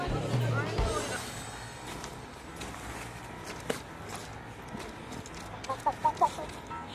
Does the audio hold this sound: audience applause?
no